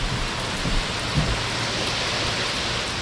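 Heavy rain pours down in a dense, steady hiss, loud and close, with no voices.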